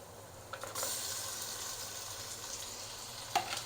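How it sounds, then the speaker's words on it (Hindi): Half a kilo of mutton fries in a pan for aloo gosht with a continuous hissing sizzle, close and even, and a couple of brief stirring knocks. "अब गोश्त को भी साथ में डाल के फ्राई करेंगे थोड़ी देर।"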